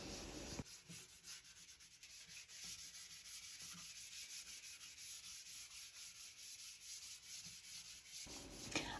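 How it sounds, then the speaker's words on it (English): A wooden highboy dresser hand-sanded with 400 grit sandpaper, producing steady rhythmic rubbing strokes, close and quiet, continuing without pause for several seconds with no voices. "I sanded down the entire piece with 400 grit sandpaper."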